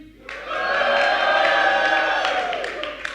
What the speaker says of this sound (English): So we can scream.